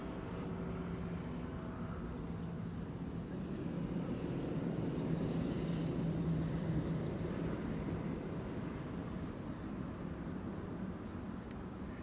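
A jet taking off at Amsterdam Schiphol Airport rumbles from a distance, a broad low roar that builds slightly toward the middle and stays steady, mixed with wind.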